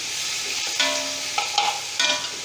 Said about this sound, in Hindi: अब हम इसमें डालेंगे अदरक का पेस्ट जो मैंने पीस के रख लिया था, इसको हम डाल देंगे। इसको हम अच्छी तरीके से फ्राई करेंगे।